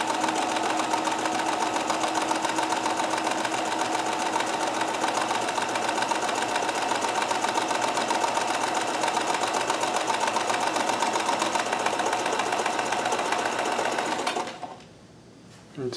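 A Kenmore 158.1914 sewing machine runs steadily at speed while chain stitching, its fast even mechanical whirring and needle chatter loud and close for about fourteen seconds before stopping abruptly.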